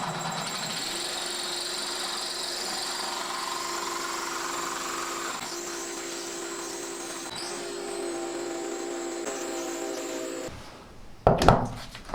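A power drill bores through concrete board on a shower wall for glass installation, a close, continuous grinding whir that shifts in tone, then stops and is followed by a few sharp knocks.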